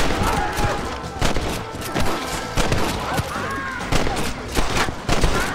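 Gunfire in the Western video game Red Dead Redemption during a gang shootout, with rapid, overlapping shots cracking repeatedly in a dense, loud volley that continues throughout.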